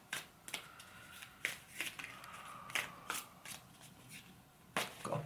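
A deck of playing cards is shuffled by hand in a quiet room, with repeated crisp riffling bursts and flicks at an irregular rhythm, close and fairly soft.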